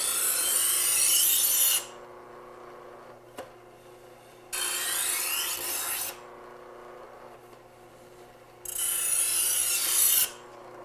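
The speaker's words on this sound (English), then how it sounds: "We're sharpening both sides of the blade at different times." A knife blade drawn through the turning wheel of a handheld sharpener, sharpening one side at a time: three separate bright rasping strokes of about two seconds each, with quiet pauses between them.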